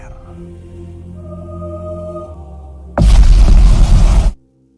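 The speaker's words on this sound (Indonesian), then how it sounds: "Nuklir pun meledak." A nuclear bomb detonates in a Godzilla film: after a stretch of low droning tones, a sudden loud roaring blast erupts and rumbles for about a second and a half before cutting off abruptly.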